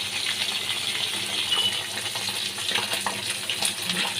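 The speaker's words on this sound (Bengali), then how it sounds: "মাছগুলোকে আমি ভেজে নিচ্ছি" Bhola fish fry in hot oil in a wok, giving a steady crackling sizzle with scattered pops throughout, moderately close and without talk.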